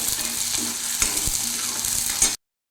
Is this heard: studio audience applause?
no